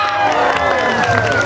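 Crowd at a bullfighting-day variety show in Chalatenango cheering and applauding for the second contestant, a dense continuous roar of claps and shouts filling the whole moment, loud and close.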